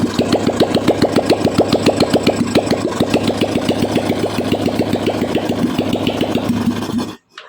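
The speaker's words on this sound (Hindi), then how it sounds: "तो बाइक को स्टार्ट करके ही देखना पड़ता है।" A Royal Enfield 350 motorcycle engine runs with a steady, fast thumping beat, loud and close, for about seven seconds before cutting out abruptly into near silence.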